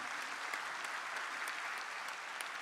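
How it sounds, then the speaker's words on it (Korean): A congregation applauding during a church New Year thanksgiving service, steady dense clapping throughout, heard from a distance in a large hall with no voices over it. "우리 하나님께 영광의 박수 올려드립니다"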